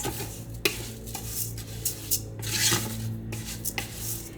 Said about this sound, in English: I'm just gonna stir it to kind of lightly coat